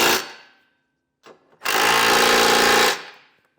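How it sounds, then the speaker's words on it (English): A power tool with a 3/4 inch socket snugs down trailer hitch hardware on a 2018 Lincoln MKZ, sounding in two loud rattling bursts, a short one then a longer one of over a second, with a quiet gap between. "we can come back with a 3/4 inch socket and snug everything down"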